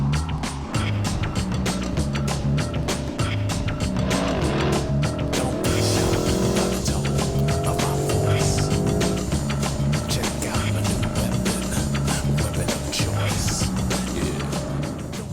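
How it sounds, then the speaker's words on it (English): A 2022 Porsche Cayenne Turbo GT with a front-mounted V8 drives a winding road, giving a steady, continuous rumble of engine and tire noise at constant level throughout. "The V8 up front is a tremendously flexible engine."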